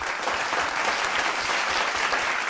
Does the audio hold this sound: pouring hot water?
no